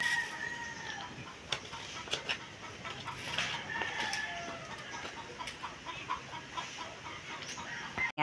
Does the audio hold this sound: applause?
no